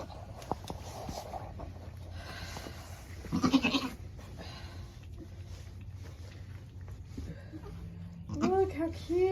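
A goat bleats near the end, a wavering, nasal cry after a quieter stretch of farmyard background, with people talking at times.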